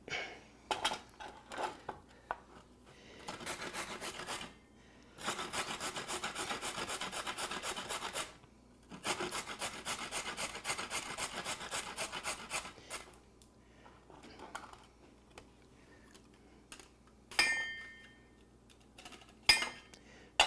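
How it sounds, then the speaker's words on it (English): A carrot is grated by hand in a home kitchen, giving quiet rasping scrapes in several runs of quick strokes with short breaks between them. "First thing, let's grate a carrot."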